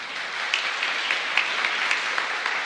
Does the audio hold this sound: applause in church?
yes